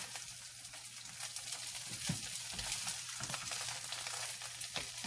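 Corned beef hash browning in a pan on a stovetop gives a steady, close sizzle and crackle of frying that runs through the whole stretch, with a few soft scrapes and no talking.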